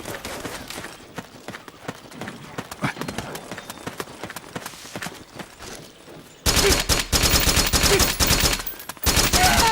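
Rapid automatic gunfire in the stealth-action game Metal Gear Solid 4, starting with scattered shots and then a loud, dense sustained burst near the end, with voices calling out during the fight.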